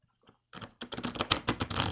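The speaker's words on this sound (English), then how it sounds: "Let's get a couple of more shuffles going." Tarot cards being shuffled, a quiet riffle of rapid papery flicks and snaps that starts after a short near-silent pause and builds into a dense, close crackle.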